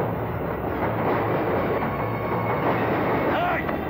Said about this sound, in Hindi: हमें इस ट्रेन से कूदना होगा।